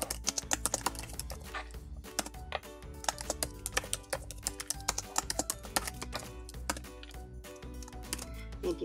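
Rapid typing on a computer keyboard, close and crisp, with dense irregular key clicks running steadily throughout and no talking.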